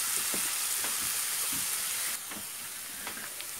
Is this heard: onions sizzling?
yes